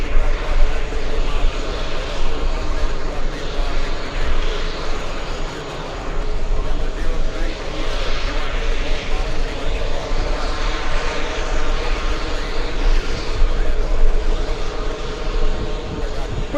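An Airbus A380 airliner on final approach to runway 22 left produces a loud, continuous engine roar that holds steady throughout, with voices partly audible beneath it.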